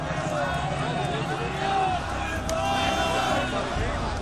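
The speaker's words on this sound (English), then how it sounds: "A mob surrounded the building." A dense crowd mobs the KGB headquarters in Dresden at night, a steady roar of many voices and shouting that holds loud throughout, with scattered calls rising above the babble.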